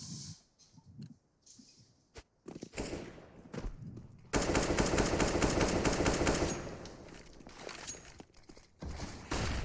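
AK rifles fire in a CS:GO match on Dust: scattered single shots and short bursts, then a long, loud, dense stretch of sustained automatic fire with overlapping reports.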